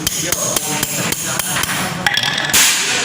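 Repeated sharp metallic hammer blows drive a rocker arm pin into a Yamaha Mio Sporty cylinder head, close and loud in a steady rhythm, ending with a harsher ringing clank.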